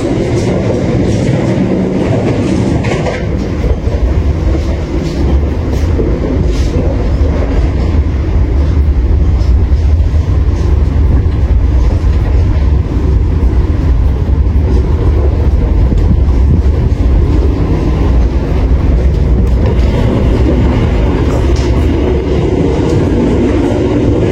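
Argo Lawu express train running on rails, a loud continuous low rumble with rhythmic clickety-clack of wheels over joints, steady for over twenty seconds with no talk.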